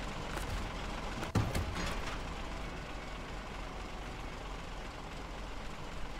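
A heavy truck engine idles steadily in the SnowRunner video game, a low continuous rumble at even loudness with one brief knock partway through and no talk over it.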